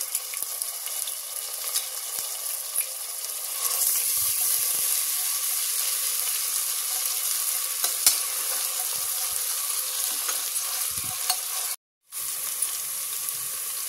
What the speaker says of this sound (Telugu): అల్లం వెల్లుల్లి పేస్ట్ బాగా ఫ్రై అయింది కదా